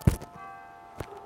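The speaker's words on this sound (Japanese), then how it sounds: "鐘が鳴った。" Two short bell strikes ring out in a golf video game, the first near the start and a second softer one about a second later, with faint ringing tones sustained between them.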